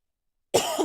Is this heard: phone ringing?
no